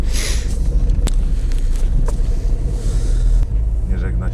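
A car drives and drifts across packed winter snow on a village road, a steady low engine rumble with crunching and a couple of sharp knocks, close and continuous throughout.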